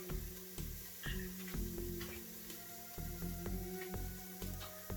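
Minced jarred garlic sizzles as it hits a hot pan for potato and leek soup, a steady close frying hiss with soft stirring clinks and scrapes throughout.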